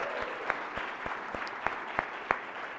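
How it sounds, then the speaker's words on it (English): Sparse, thin applause on a state Senate floor, with scattered individual claps standing out, fairly quiet and distant. "Let's give them a round of applause"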